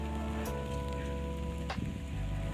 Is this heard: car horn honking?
no